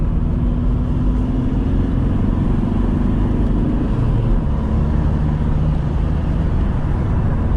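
Engine and turbo of a 2003 VW Jetta TDI wagon with a manual gearbox and coilover suspension, heard from inside as a loud, steady diesel drone with a rising whistle that fades midway through a gear pull.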